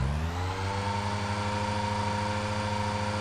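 A car engine, one running without warming up properly, rises in pitch as the throttle is pressed and then holds a steady, close hum at higher revs, with no talk.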